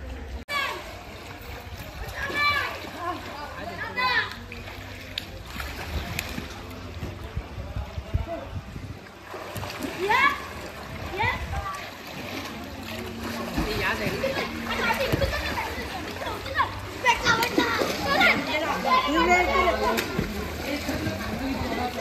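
Children splashing and playing in a farmhouse swimming pool, with continuous water sloshing and scattered shouts and chatter of kids at a moderate distance.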